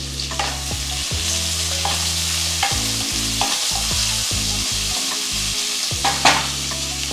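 Onions and bitter gourd stir-fried in a pan, a steady loud sizzle with repeated scraping stirs of a spatula throughout, no voices.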